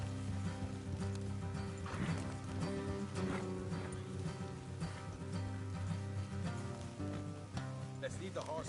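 Horses in the video game Red Dead Redemption 2, with clip-clop hooves and snorts or whinnies over a rainy backdrop and music, moderately quiet, with game voices speaking at times.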